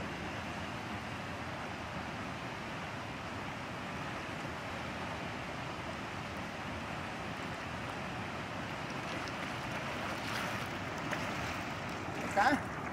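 Rushing river current where people are wading across a rocky stretch while fishing for tilapia, a steady broadband roar filling the whole clip with faint voices and a brief splash near the end.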